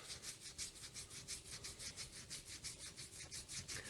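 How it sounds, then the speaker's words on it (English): Hands rub briskly over the back of each other during a qi gong self-massage, making a faint, steady back-and-forth swishing with a quick regular rhythm and no talking. "rub the top of the other hand."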